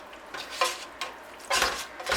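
Noodles are stirred and flicked in hot pan juices in a frying pan, giving bursts of sizzling and scraping at an uneven rhythm, close and moderately loud.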